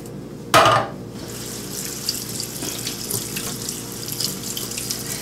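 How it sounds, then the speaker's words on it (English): Tap water gushes loudly into a sink for a moment as black beans are rinsed, then settles into a quieter, steady trickle and splash for the rest, close by with no talking. "next I'm taking my black beans. And we're going to rinse these."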